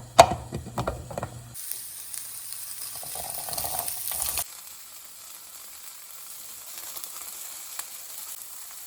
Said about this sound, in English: I'm gonna start by heating up some olive oil